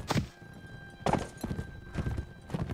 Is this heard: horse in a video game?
yes